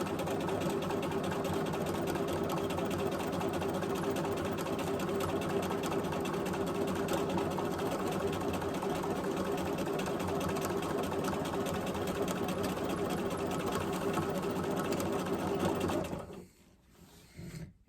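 A sewing machine free-motion quilting runs in a steady, continuous mechanical whir with a rapid needle rhythm at close range, then slows and stops near the end.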